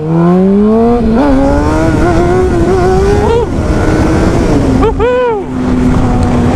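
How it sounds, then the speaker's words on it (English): A Honda CBR600RR 600cc sport bike pulls hard from first gear to lift its front wheel, the engine note climbing loud and close through repeated rising sweeps, dipping between surges and then winding up again. "from first gear here, I'm gonna go ahead and give it a little bit of gas"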